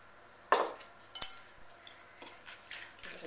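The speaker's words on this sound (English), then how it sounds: "Give it a good mix up" A spoon mixes low-fat banana bread batter of mashed banana, eggs and sweetener in a bowl, giving quiet, irregular clinks and taps against the bowl with soft scraping between them and no talking.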